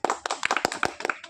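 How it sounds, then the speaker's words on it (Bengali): A quick burst of sharp hand claps from one or a few people at a close distance, uneven in rhythm, over about a second during a bottle-sweeping game for pasta. "হাততালি"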